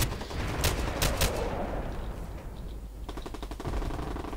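In the online shooter Bullet Run, rapid automatic gunfire cracks in quick bursts, first a few loud shots, then a lull, then a fast rattling volley, all close and punchy over a busy game background.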